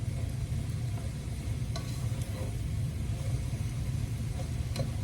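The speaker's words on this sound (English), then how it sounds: "Get a few more stirs here." Leeks, onions and potatoes stirred in a soup pot, a steady low rumbling scrape with a few light clinks of the spoon against the pot.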